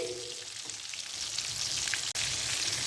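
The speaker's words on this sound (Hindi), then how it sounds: "आराम से हम इसको हिला के इस तरह फ्राई करेंगे। हमने बिल्कुल लो फ्लेम पे फ्राई करना है" Chicken wings for KFC-style crispy fried chicken bubble in oil over a low flame, giving a continuous, even frying hiss throughout.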